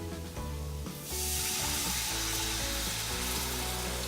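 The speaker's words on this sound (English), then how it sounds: "So I think I'm about ready to add my beef broth." Beef broth, 2.5 cups, poured into a hot casserole pan for French onion casserole, setting off a loud, steady sizzle that swells sharply about a second in and keeps hissing to the end.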